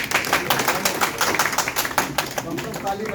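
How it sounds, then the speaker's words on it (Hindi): Audience applause at a trade association felicitation ceremony in Triveniganj, Supaul, with a steady patter of many hands clapping throughout and a voice speaking faintly over it. "ताली बजाते रहिए।"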